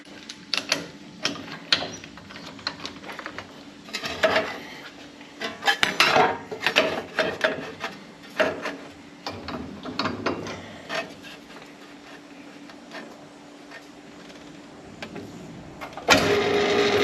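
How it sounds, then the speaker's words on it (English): Metallic clicking and ratcheting as a screw is tightened on a 1950 Cadillac hearse under restoration, coming in short irregular bursts with scraping metal and pauses between them, close and fairly loud. "We gotta tighten that screw."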